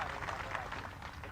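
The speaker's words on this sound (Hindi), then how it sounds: "जोरदार तालियां बजा दो सभी कार्यकर्ताओं के साथ।" Crowd of party workers at a political rally in Simariya applauding, a dense, steady wash of clapping and cheering that fills the whole moment at moderate level.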